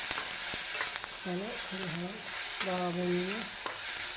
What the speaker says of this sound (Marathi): इकडं कांदा टमाटर मीठ आणि हळद चांगली भाजली बघा.